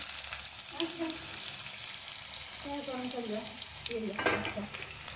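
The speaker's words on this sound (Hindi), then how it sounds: "तेल गरम होने के लिए रखे हूँ इसके बाद से इसमें मैं डालूँगी प्याज मैं प्याज डाल रही हूँ" Onions hit hot oil and fry with a steady close sizzle and occasional stirring scrapes, while a voice talks quietly over the cooking noise.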